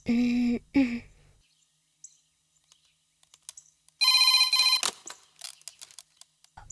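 An electronic phone ring sounds briefly near the start, then after a quiet stretch a longer bright ringtone trills, followed by scattered small clicks.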